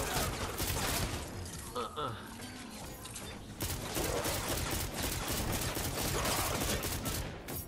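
Bursts of epic assault rifle fire from Fortnite crackle through a dense, continuous stream of game noise, with rapid shots running nearly the whole time and a player's voice talking over them.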